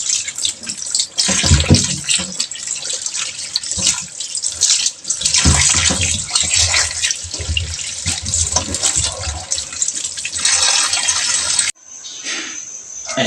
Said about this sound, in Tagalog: hugasan natin yung karne para malinis